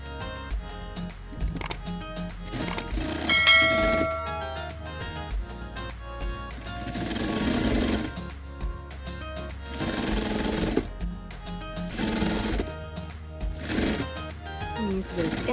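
A sewing machine fitted with a ruffler foot stitches gathers in fabric, running in several rapid mechanical bursts separated by pauses, close, with a person talking between runs.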